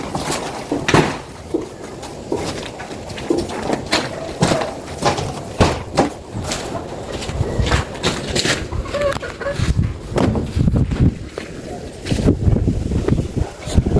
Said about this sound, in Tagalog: Mahangin guys. Mahangin.